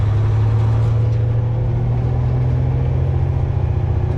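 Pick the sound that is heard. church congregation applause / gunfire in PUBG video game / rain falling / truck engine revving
truck engine revving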